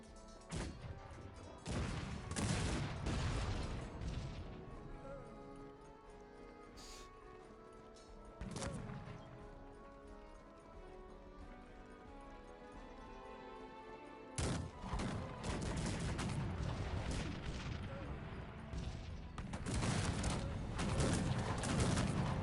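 Cannon and musket volleys in the real-time strategy game Cossacks 3 crash and boom in dense bursts, with crackling gunfire layered over battlefield noise, loud and continuous with brief quieter gaps.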